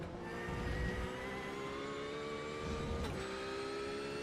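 A GT race car's engine revs high and steady through a corner, holding a sustained whining drone across the whole stretch, with a brief shift of pitch near the end and no talk over it.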